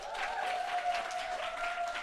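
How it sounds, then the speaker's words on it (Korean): A lecture audience at a business talk claps enthusiastically, a dense, sustained patter of many hands close at hand with a steady ringing tone running underneath. "사람들은 막 열렬하게 박수를 치고"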